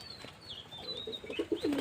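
A pigeon's soft cooing builds up near the end, faint and close, with a few thin chirps from other birds in the background.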